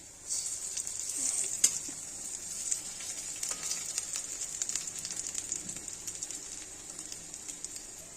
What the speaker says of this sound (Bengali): এটা লাস্ট, এটা ভাজা হয়ে গেলে সমস্ত বড়া ভাজা কমপ্লিট।